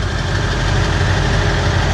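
A diesel truck with a 4-inch turbo-back exhaust running to a 6-inch tip idles close by, a steady, loud low rumble with a rapid knocking pulse and no talk.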